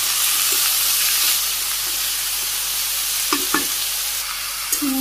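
Onion hits hot oil in a pan for a Bangladeshi fish curry, giving a loud, steady sizzle with a few brief stirring clatters.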